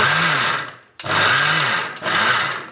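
A kitchen mixer grinder whirs loudly while grinding jaggery and coconut, running in steady bursts with two brief stops and restarts, close and alone.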